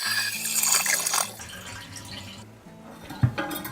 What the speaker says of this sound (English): Now I'm going to flush the toilet to get as much water out of the tank as possible.